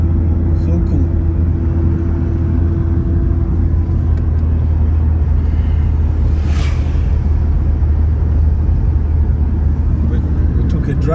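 A car drives through the upscale Maitama neighbourhood of Abuja, its road rumble and engine drone steady and loud throughout with no breaks.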